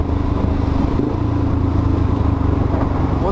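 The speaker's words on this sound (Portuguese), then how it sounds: "Osmar e sua CB300 ocupando o corredor inteiro" A Honda CB300 motorcycle runs through a corner, its engine droning steadily with a low, rough hum and wind rush, loud and continuous without any clear voices.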